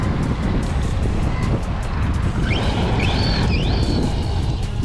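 Arrma Kraton 4S V2 RC car driven hard into turns outdoors, a continuous rushing motor and tyre noise mixed with wind buffeting on the microphone, and a few whining pitch sweeps as it accelerates, fairly loud, no talking.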